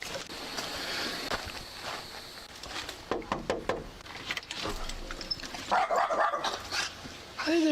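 A dog barks several times at close range in short bursts with some yips and whimpers, partly under people talking and other background noise.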